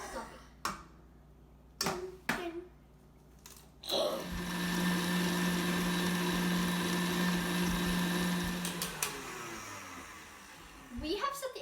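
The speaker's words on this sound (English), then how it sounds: "you first put in the 4 eggs in our mixer and beat them until light and fluffy" An electric mixer beats four eggs for brownies, whirring steadily for about five seconds after a few sharp knocks and clatters, then winding down to quiet.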